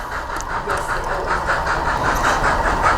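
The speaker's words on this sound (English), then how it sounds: "that train coming to the station" Model railway train arriving at a station, a steady rumbling run with a regular rhythmic pulse of wheel and motor noise, close and fairly loud.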